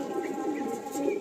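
Teddy pigeons, ring-eyed fancy birds kept at a family home, coo in a low, steady murmuring stream, close by and continuous for the whole moment with no one speaking.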